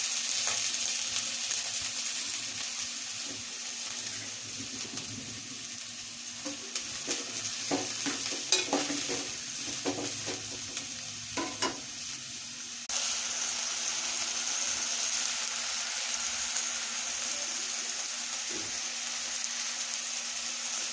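Sliced onions and green chillies fry in hot oil and are stirred, giving a continuous close sizzle. Scraping knocks sound in the middle, and the sizzle runs on alone afterwards.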